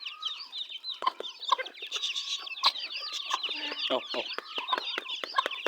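Chicks cluck and cheep busily while pecking at tea leaves, with close, overlapping chirps and a few louder calls; a voice speaks briefly.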